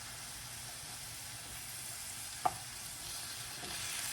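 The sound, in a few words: beef and onions frying in avocado oil in a pan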